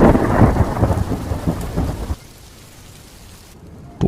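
A cartoon sound effect of heavy rain and thunder at night: a loud, dense roar of rain with rumbling thunder for about two seconds, then it drops sharply to a quieter, thin hiss.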